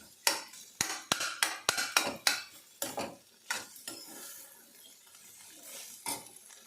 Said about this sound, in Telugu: ఈ మసాలా అంతా ఈ క్యాలీఫ్లవర్కి పట్టే వరకు ఇలా కొంచెం ఫ్రై చేసుకోవాలి